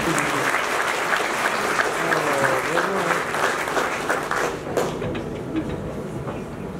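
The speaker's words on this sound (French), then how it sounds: "tous vos applaudissements" Applause from a ceremony audience greeting a WHO representative at an official launch event, a dense steady clapping that fills the room throughout, easing slightly near the end.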